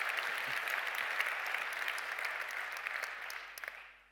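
An audience applauds after a highlight lecture on gravitational wave detection at the IAC 2018 congress. The clapping is steady, moderately distant and fairly soft, then tapers off at the end.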